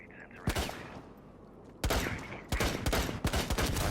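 Gunfire aimed at a wall in Rainbow Six Siege, with a burst of shots, a pause, then several rapid close, loud volleys that crack and echo.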